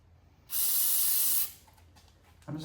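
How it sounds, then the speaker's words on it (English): Aerosol brake cleaner sprays onto a rag in a single steady hiss lasting about a second, close and fairly quiet, with faint handling noises after. "I'm just spraying brake clean on the rag to get this pinion cleaned up."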